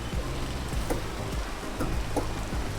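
Rain falls steadily in a tropics level of the video game Peak, a dense constant hiss with soft irregular patters and low thumps throughout, with no talk heard.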